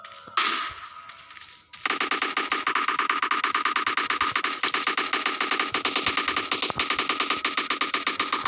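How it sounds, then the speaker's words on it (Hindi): Gunfire in the battle royale video game PUBG Lite, a sustained run of rapid evenly spaced automatic shots after a brief quieter lead-in, loud and close with no speech. "अब देख सकते हो यहाँ पे ही फायरिंग हो रही थी।"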